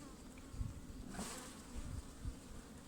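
Anatolian honey bees buzzing in a hive in May, a dense steady hum close by with a few louder passes, no voices.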